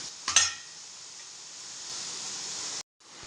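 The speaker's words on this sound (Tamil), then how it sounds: "இப்போ இதில் வந்து நமக்கு கொஞ்சமாக தண்ணி ஊற்றி கொதிக்க விடலாம்." Water is poured into frying masala in a pan, starting with a sharp splash and clatter, then a steady loud hiss and sizzle that cuts off abruptly near the end, with no talking.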